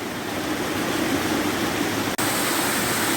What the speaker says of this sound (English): here's a series of boulder strewn cascades